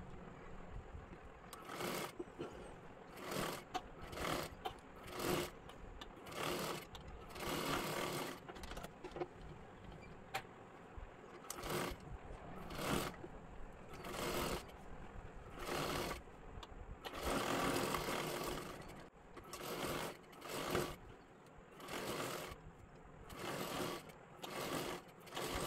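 A sewing machine stitches a blouse sleeve in short, repeated bursts of rapid whirring, each run separated by brief pauses, close and fairly quiet.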